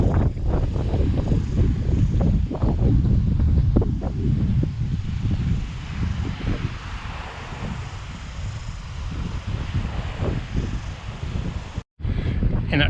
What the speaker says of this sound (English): Hear that wind? That's why.